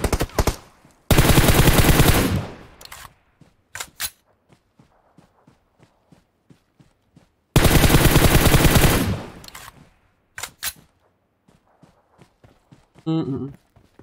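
Video game gunfire during a squad match: two long bursts of rapid automatic fire, each about a second and a half, are separated by scattered single shots and soft footstep-like taps. A brief voice-like sound comes near the end.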